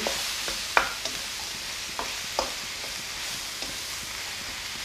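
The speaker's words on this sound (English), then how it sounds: "stir it in" A thickening vinegar sauce for Chinese chicken gets stirred in a pan, with a faint continuous hiss under a few light taps and scrapes of the spoon, one louder clack early on.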